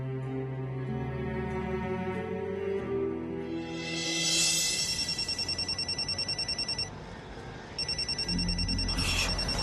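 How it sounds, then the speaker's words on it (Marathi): A telephone rings in a domestic scene from a Marathi TV serial. Sustained musical tones come first, then rapid, evenly pulsed ring bursts repeat in two runs, loud and close. "सारखा फोन करतोय"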